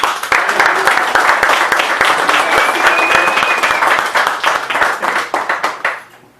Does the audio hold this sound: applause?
yes